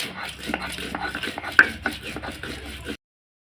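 Green chillies being ground into a paste for a thin potato and pointed gourd curry give a steady run of rough scraping and knocking strokes, close and moderately loud, for about three seconds before stopping.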